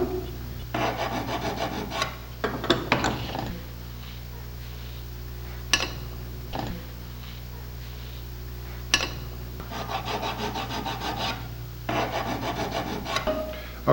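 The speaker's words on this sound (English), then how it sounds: "after we finished filing the edges on all the connecting rods" Engine connecting rod edges are filed by hand, bursts of rough rasping strokes in short rhythmic runs separated by pauses and light metallic taps, close and fairly quiet with no talking.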